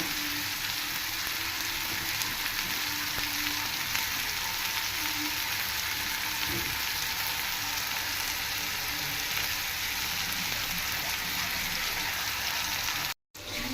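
Two green chilies frying in hot oil for a chicken curry, a steady close sizzle running evenly throughout with no talk, cutting out briefly near the end.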